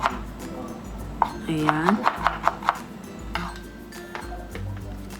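A knife chops garlic, onion and ginger on a board, a quick run of crisp close taps in the middle with scattered cuts around it, under brief speech.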